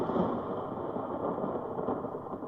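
Thunderstorm sound effect in a vintage radio drama, a steady loud roar of heavy rain with a low rumbling undertone, continuous and without speech.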